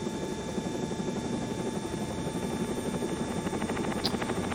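Helicopter in flight during a training lesson, a steady close rotor drone and engine whine heard from inside the cabin, continuous and moderately loud with no talk.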